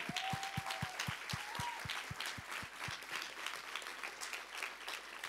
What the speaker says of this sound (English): Warm applause, Ulrika Dahl,